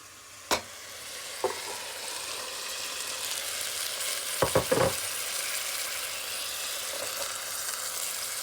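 Meat with tomato, onion and chickpeas is stirred in a pan, a steady sizzle running throughout with a few sharp scrapes of the utensil, one early and a quick cluster near the middle.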